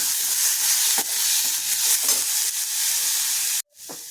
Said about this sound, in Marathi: आणि यात आपण टाकणार आहोत आता अगदी बारीक चॉप करून घेतलेला कांदा आणि गुलाबी परतून घ्यायचा आहे